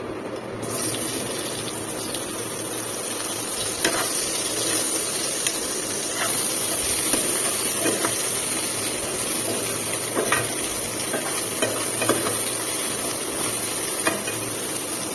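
Sliced potato, pointed gourd and ridge gourd frying in a pan, giving a steady loud sizzle throughout, with scattered clicks and scrapes from stirring.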